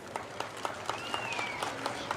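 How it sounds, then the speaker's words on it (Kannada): Scattered audience clapping at a school annual day, sparse, evenly spaced claps heard faintly from a distance over a low background hum. "ನನಗೆ ಈ ಭಾಗದಿಂದನೇ ಚಪ್ಪಾಳೆ ಬರ್ತಾ ಇದೆ, ಆ ಭಾಗದಿಂದ ಚಪ್ಪಾಳೆ ಬರ್ತಾ ಇಲ್ಲ."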